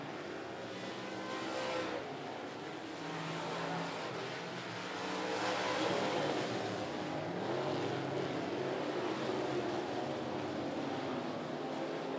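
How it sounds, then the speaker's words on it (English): Modified race cars roar around 411 Motor Speedway, a continuous loud engine drone from several cars swelling and fading slightly as they pass, with no talk over it. "Sneaking away with a 4-car length lead is the K-15 of Kevin Lewis"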